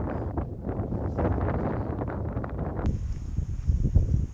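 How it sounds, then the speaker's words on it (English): Wind buffets the microphone on the Freshwater Bay golf course in loud, uneven rumbling gusts, then eases into a quieter, steadier blow. "because of the wind, which you can obviously hear in the background"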